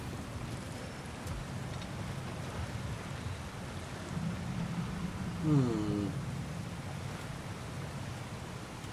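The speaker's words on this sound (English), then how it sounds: "Sounds like the water moving along" Water rushes along a boat's hull as it travels in the God of War video game, a steady washing hiss throughout, with a brief hum from a voice partway through.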